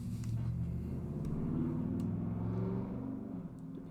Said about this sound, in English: People's cars need to be so loud, my goodness.